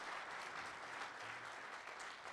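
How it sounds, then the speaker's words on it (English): An audience at a safety kickoff event gives a round of applause for safety award nominee companies, steady dense clapping throughout, fairly distant and continuous. "And a round of applause for all these companies."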